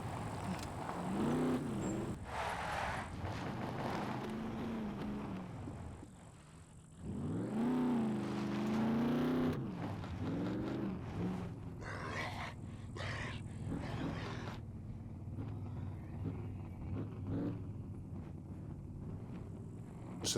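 A car engine drives in the SCUM survival game, a rough rumbling drone that rises and falls as it revs and shifts, steady at moderate volume for the full stretch, with wind noise and talk over it.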